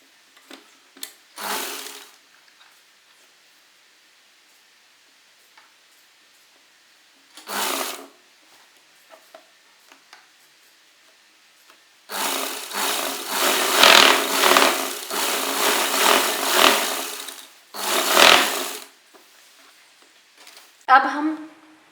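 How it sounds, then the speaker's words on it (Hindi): A sewing machine runs straight stitches on an Afghani salwar in short separate bursts, then one longer continuous whirring run, with quiet pauses between. "अब हम इसी तरह से थोड़ा सीधी सिलाई लगाकर यहाँ तक चल लेंगे।"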